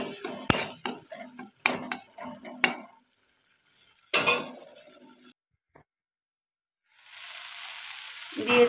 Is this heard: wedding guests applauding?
no